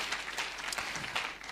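A church congregation claps during a service, a brief, fairly faint burst of scattered hand claps from many people.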